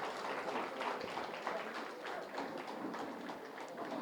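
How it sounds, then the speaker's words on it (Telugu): An audience at a meditation gathering applauds a magazine release, a steady wash of many hands clapping that lasts throughout. "ఒకసారి గట్టి క్లాప్స్ అండి ధ్యాన్ జగత్ మ్యాగజైన్కి."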